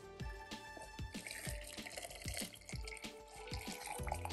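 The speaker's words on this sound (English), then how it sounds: "I'm gonna transfer it to a measuring cup for easy storing a little bit later." Cooled homemade syrup for a Pokemon Legends: Arceus potion recipe pours into a measuring cup, making a rhythmic series of close liquid glugs and splashes with no talking.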